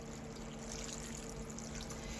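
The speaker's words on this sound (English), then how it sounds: "and I'm going to add my chicken stock." Chicken stock pours into a pot of green beans, a steady liquid rush and splash lasting the whole moment, fairly quiet and close with no talk.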